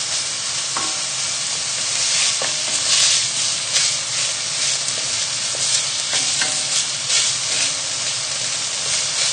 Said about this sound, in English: So just stirring it around the pan.